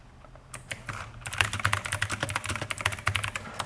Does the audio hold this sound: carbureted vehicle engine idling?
no